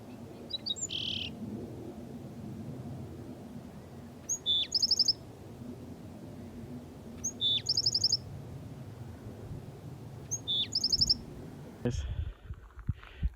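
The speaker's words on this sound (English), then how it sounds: "let's get back to this black throated sparrow that we were trying to photograph" A black-throated sparrow gives short, high chirps in three or four brief bursts a few seconds apart, heard over a steady outdoor rumble of wind or running water.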